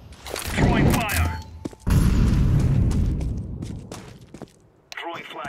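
Counter-Strike 2 match with an incendiary grenade thrown among gunfire: loud bursts and booming blasts close by, gaps of quieter noise between them, and a voice calling out over the action.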